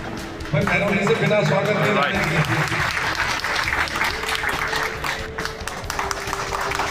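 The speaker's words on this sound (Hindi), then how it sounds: "भाई तालियां जोर से बजाओ।" A crowd at a public hearing on water and sewer problems breaks into loud, sustained clapping, with voices talking over and around the applause.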